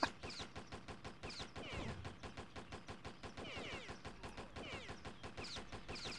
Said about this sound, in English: Oh god, that's an explosion.